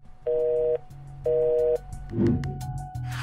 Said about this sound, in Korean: 통화 도중에 전화를 끄는 기자